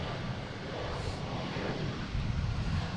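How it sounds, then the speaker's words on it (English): A JetBlue Airbus A321neo jet at Boston Logan airport, heard as a steady, loud broadband roar of engine and rushing air that swells slightly toward the end, with no talking. "I got JetBlue here heading to Milan. A321neo, flight 331, behind the brick."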